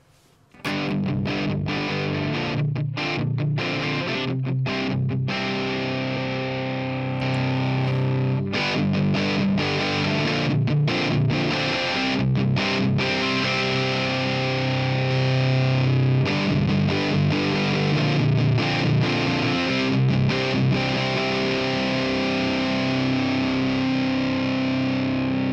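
Electric guitar through an Evil Sound Lab Malefica distortion pedal on its high-gain setting plays continuously, thick and saturated, with chords and riffs ringing loud and sustained.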